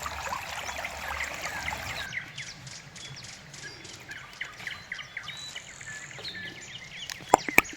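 A natural creek flows clear all year beside a small forest home, trickling softly and steadily while birds chirp and call nearby and insects buzz faintly, with a few sharp close knocks near the end.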